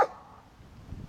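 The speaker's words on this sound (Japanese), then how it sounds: "ワンちゃんです" A dog on a morning walk near a winery villa outside Cape Town gives a single short bark right at the start, followed by a second of quiet outdoor background.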